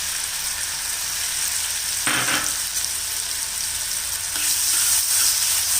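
Finely chopped onions and a bay leaf fry in hot oil for gongura chicken, a loud, continuous sizzle up close with a short stirring scrape partway through.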